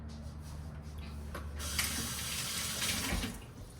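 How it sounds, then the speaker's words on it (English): A kitchen tap runs in a steady close rush while hands are wet before shaping sourdough bread, the flow swelling louder midway with splashing before easing at the end. "I'm actually gonna wet my hands for this part."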